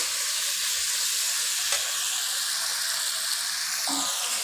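Tomatoes sauté in a pan with salt for a Centella asiatica (vallarai keerai) chutney, giving a steady close sizzle and hiss with a brief scrape of stirring near the end and no talk.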